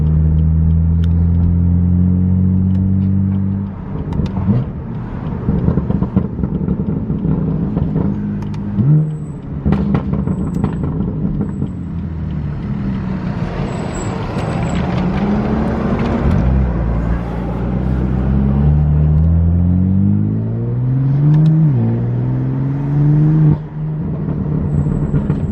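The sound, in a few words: tuned BMW F80 M3 engine while driving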